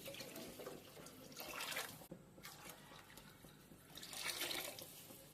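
Water is poured from a cup into a pan while making tomato bath, a soft steady splashing stream that swells twice over a few seconds, quiet and close with no voices.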